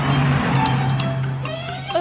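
A cartoon vehicle in Ninja Hattori screeches to a stop, a loud tire squeal and engine drone holding steady for about two seconds with a constant low hum.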